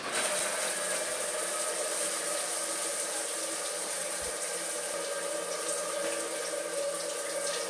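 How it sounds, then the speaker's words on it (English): A Milano Nero shower runs steadily at full flow, a constant broad hiss of spraying water throughout with no speech. "So we'll start the shower and see what it's going to do."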